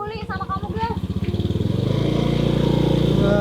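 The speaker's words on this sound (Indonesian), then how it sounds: "Saya memang cuma bawa motor butut yang suka mogok." An old, worn-out motorcycle that keeps stalling chugs with a rough, pulsing putter that settles into a steady, louder idle drone, close to the microphone.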